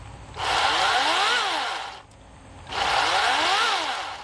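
Toro 60V Flex Force battery chainsaw revving twice, each time ramping up to a high whine, holding, then winding down, loud and close with no talk.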